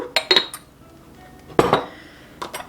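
A spoon stirs instant yeast and sugar in a bowl while bread is made by hand. A few quick, sharp clinks of utensil on the bowl come in short bursts with quiet pauses between them.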